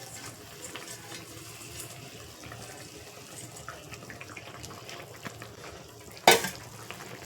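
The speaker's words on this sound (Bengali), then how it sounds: "এরকম মাছের ঝোলের ঝোল ফুটে গেছে, চলো এবারে মাছগুলোকে দিয়ে দিই।" Fish pieces go into a simmering fish curry broth, giving a steady low bubbling and stirring texture with one sudden louder splash and clatter near the end.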